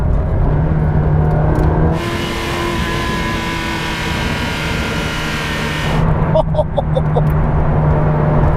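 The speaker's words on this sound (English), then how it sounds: "It roars and sings, and then there's a metallic-y sound when you lift off on the overrun." A Ferrari 360 Challenge Stradale engine roars steadily close by, with a bright, high-pitched whine swelling in the middle before dropping back to a lower growl.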